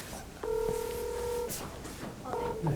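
Telephone dialing tones as a call to a civilian military employee is connected: a steady two-tone beep held for about a second, then a shorter repeat, with faint background noise.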